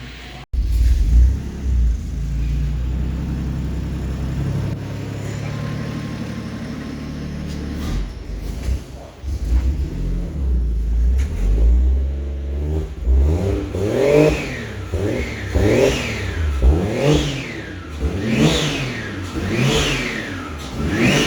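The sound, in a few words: 1JZ-swapped Toyota FRS engine revving through new exhaust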